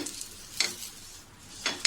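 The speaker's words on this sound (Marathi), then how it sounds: "आता मी थोडंसं असं नारळाच्या किशीने त्याला तव्याला तेल लावून घेते" A coconut husk spreads oil across a hot griddle for rice-flour ghavan, producing short bursts of sizzling hiss and scraping in two or three quick strokes, close and without talk.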